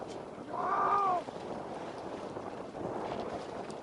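Sailboat motoring at sea off Greece, a steady engine drone with wind and water noise, a brief louder tonal swell near the start, no talk over it.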